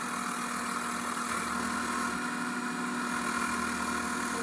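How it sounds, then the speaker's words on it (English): A wood lathe spins steadily while a hand tool cuts ridges into a wooden whirligig fishing lure, giving a continuous motor hum with a constant mid-pitched whine and no voices. "You turn on your lathe device, and you take your tool by the corner and space it out"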